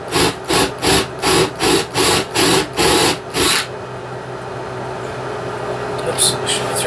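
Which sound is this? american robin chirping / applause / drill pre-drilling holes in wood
drill pre-drilling holes in wood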